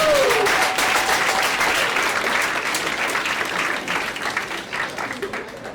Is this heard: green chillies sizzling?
no